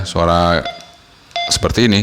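A short electronic beep from an Alinco DJ-W58 handheld radio, sounding briefly between stretches of someone talking nearby.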